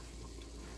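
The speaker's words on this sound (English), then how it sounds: "And the sauce is all bubbly." Lasagna meat sauce bubbling in a pan, a soft, steady low simmer with faint popping, quiet and close, no voices.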